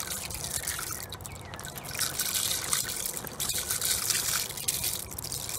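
Water poured into a makeshift chipmunk and mouse trap container made from scrap materials, a steady splashing trickle lasting several seconds, close and alone.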